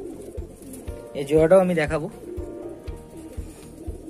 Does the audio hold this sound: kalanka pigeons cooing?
yes